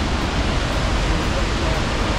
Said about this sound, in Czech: A momentálně se nacházíme u vodopádu Savica.